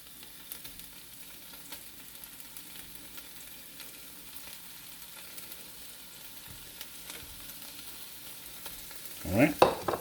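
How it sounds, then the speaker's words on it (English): Raw shrimp cook with onions in a pan, a faint, steady low sizzle that runs on quietly until a short burst of louder stirring clatter near the end. "We're now going to cook the shrimp because it's still raw."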